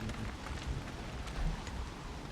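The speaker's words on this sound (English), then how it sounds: "that thunder was further away" Steady rain with a low distant thunder rumble in the horror video game Outlast II, a continuous faint wash of falling water heard alone.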